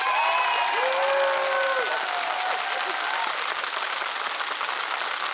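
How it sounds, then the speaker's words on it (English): A conference audience gives a sustained round of applause, dense clapping filling the room throughout, with a few faint vocal tones and whoops near the start. "I want you all to give yourselves another wonderful round of applause"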